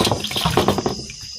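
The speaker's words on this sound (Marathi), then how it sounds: "मस्त कलेजी धुवून घेऊ आपण 2-3 पाण्यामध्ये." Goat liver being rinsed in water, with splashing and sloshing as the pieces are swished around in a vessel, close and moderately loud, easing into quiet near the end.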